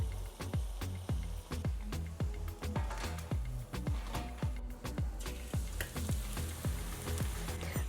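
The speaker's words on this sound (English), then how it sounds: "Now I am frying these on a medium to medium low heat" Corn tortilla taco shells fry in oil over medium-low heat, a close crackling sizzle under regular rhythmic thumps from a steady backing beat, with no talking.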